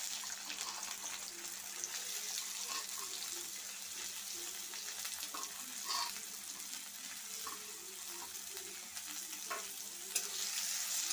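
Sliced onions frying in oil in a kadai give a steady, faint crackling sizzle throughout with occasional small pops and stirring noises, recorded close with no one talking.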